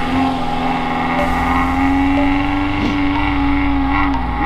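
A UAZ off-road vehicle's engine revs hard and holds a strained, droning pitch while trying to climb out of a muddy pit, loud and close, with a brief shout in Russian over it.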